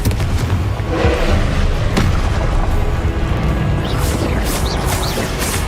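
A Confringo explosive spell blast in Hogwarts Legacy brings dense, loud booming and crashing impacts with rumbling bursts throughout, and sharper whooshing sounds appear near the end.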